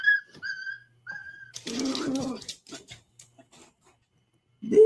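A dog heard from a watched video during an encounter with a cat, giving a few short whines and yips amid a brief noisy scuffle, with some faint background sound.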